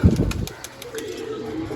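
A pigeon takes off with a quick burst of wing flaps at the start, then a soft, steady outdoor background with faint bird sounds.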